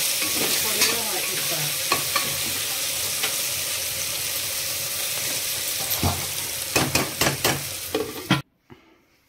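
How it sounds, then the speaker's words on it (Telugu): Chicken curry masala sizzles in hot oil in a pan while a spoon stirs it steadily, scraping and clattering near the end before the sound cuts off abruptly. "ఈ విధంగా అయితే కలుపుకుంటూ ఉండాలి, ఎందుకంటే కింద అడుగు పట్టకుండా మాడకుండా ఉంటుంది అన్నమాట"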